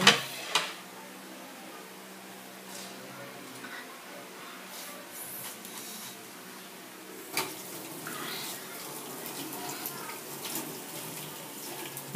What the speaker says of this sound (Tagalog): Patay mo yung gripo. Sayang yung tubig.